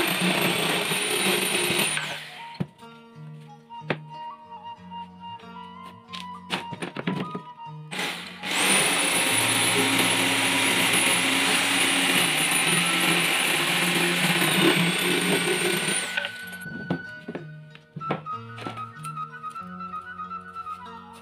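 A power tool cuts wood to length for a gypsum molding mold, with a loud sustained whining cut in the middle, flanked by shorter bursts and knocks of handling.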